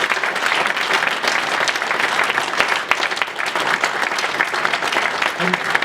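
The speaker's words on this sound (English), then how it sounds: "I think we should all give them a massive round of applause for getting this far" A large crowd at a West Ham event breaks into sustained, dense applause that holds steady throughout, with faint voices mixed into the clapping.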